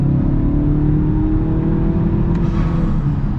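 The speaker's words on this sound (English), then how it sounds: "So I wanna see how it does full throttle." A modified turbocharged Mazda CX-5 engine roars steadily under full-throttle acceleration on a highway, a continuous loud drone with wind and road noise and no talking.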